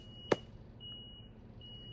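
A single short electronic beep sounds once, sharp and clear, followed by a faint steady high tone in a quiet room.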